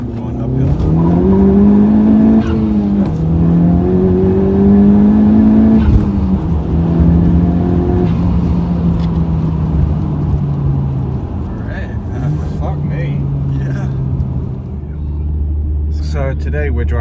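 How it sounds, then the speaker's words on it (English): A tuned Honda Civic Type R FK8 four-cylinder, ECU-tuned to about 400 bhp with a cat delete, pulls uphill with a loud rising engine note that climbs through the gears, heard from inside the car while people talk over it. "Today we're driving a Civic Type R. It's the FK8 model, so the most recent variation."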